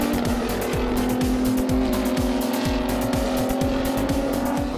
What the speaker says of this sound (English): driving the Formula Yas 3000 single-seater car